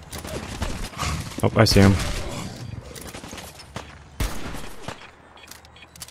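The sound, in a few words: gunfire hitting the player in video game Fallout 4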